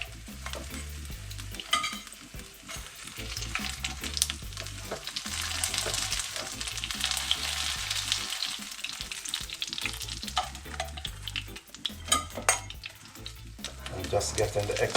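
Saltfish fritters frying in hot oil crackle and sizzle steadily and close by, with intermittent stirring and lifting noises and no speech.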